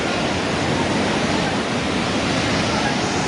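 Loud, steady roar of floodwater rushing through a flooded area in Nepal, broadband and continuous with no breaks, close and dominating throughout.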